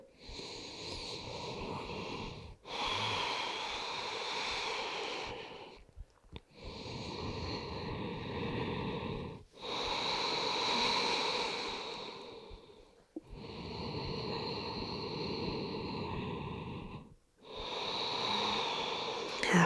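Slow, deep breathing in yoga child's pose, with long audible inhales and exhales that rush through the nose and throat in a steady rhythm, about five breaths separated by brief pauses. The breathing is close and alone, with no talk.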